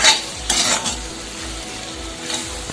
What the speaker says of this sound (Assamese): মাংসটো অলপ ফ্ৰাই কৰি লওঁ আগতে